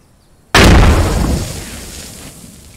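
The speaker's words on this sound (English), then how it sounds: "I'm not quite sure what that explosion was" A single loud, close explosion in the video game Post Scriptum bursts suddenly, then a rumbling decay trails off over a couple of seconds.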